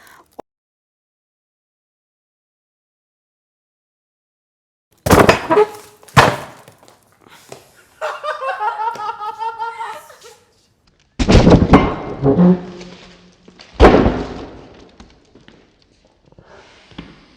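After several seconds of silence, sharp snapping bursts and thuds ring out as a watermelon wrapped in rubber bands bursts, with excited shouting and laughter between them.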